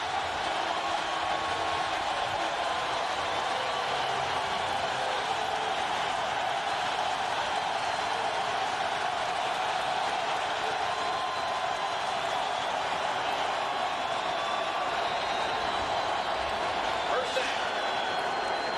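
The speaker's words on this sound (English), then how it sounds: "Here's the crowd." A football stadium crowd at an Eagles–Chiefs game in Kansas City roars in a continuous broad wash of cheering, steady and loud with no pauses.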